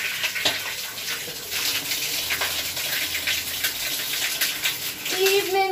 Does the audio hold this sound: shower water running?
yes